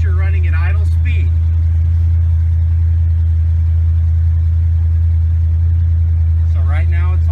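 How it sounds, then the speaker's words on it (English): A Baja 272 Islander boat with a captain's call exhaust accelerating: a loud, steady, deep engine drone runs throughout, with voices talking briefly at the start and again near the end. "go ahead and start to accelerate. This is our captain's call exhaust right here."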